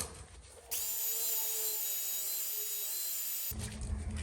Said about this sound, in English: I think I'll sand the outside of the plastic